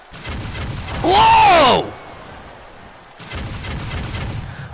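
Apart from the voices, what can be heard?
cannon fired during a wrestler's entrance in WWE 2K22 video game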